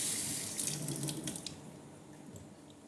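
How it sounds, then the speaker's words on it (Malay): A tap runs steadily into a sink while hands are washed, a close, moderately quiet splashing stream that fades away after about a second and a half. "Sekejap saya basuh tangan je."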